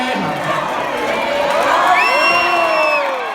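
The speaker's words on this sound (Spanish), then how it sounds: "Fuerte el aplauso, señoras y señores." A concert crowd in Valencia cheers, whoops and shouts loudly at close range, the cheering swelling into sustained high-pitched yells over a few seconds.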